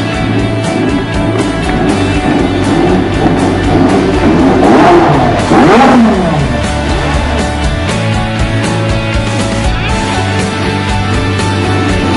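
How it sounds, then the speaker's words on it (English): McLaren MP4-28 Formula 1 car from 2013 with a Mercedes engine, its engine revving loud and close for a sustained stretch, pitch sweeping up and down through repeated blips, with no voices. "It's the incredible McLaren MP4-28."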